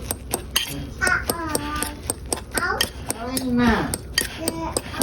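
Natto being mixed into a bowl of rice, with repeated sharp clinks of utensils against a bowl in an irregular rhythm while a voice talks over it nearby.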